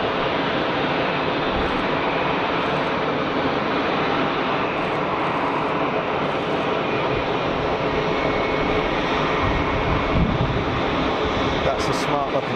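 Loud, steady roar of a large-engined airliner at Geneva Airport, a broad continuous rumble filling the scene with a slight swell near the end; a voice talks over it at times.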